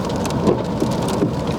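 Hail drums densely on a car, a loud, rapid, continuous patter of pelting impacts without any speech.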